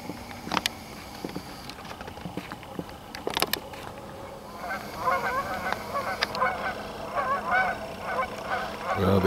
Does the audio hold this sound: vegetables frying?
no